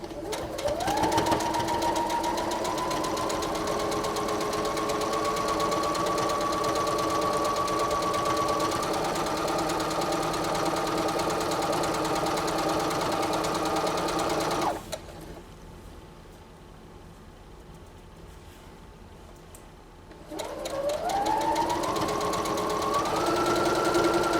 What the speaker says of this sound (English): I'm going to go ahead and sew it straight down the line